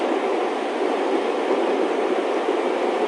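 Steady road and engine noise inside a car while driving, a continuous broadband rumble and hiss without breaks, moderately loud and with no voices over it.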